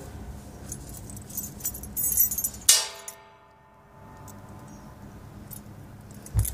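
A key is picked up in a video game, giving one short, bright metallic jingle that rises out of a soft, busy game background and then drops into near quiet.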